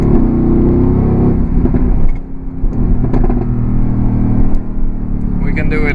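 Mercedes-AMG GT C Edition 50 engine roaring hard through a launch control sprint, loud and sustained with gear changes near the two-second mark, then steady high-revving drone; a voice talks over it.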